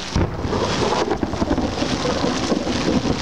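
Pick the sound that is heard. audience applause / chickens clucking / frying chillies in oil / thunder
thunder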